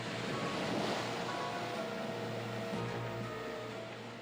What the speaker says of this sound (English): Waves crash against the coast with enough energy to turn over cars and destroy buildings.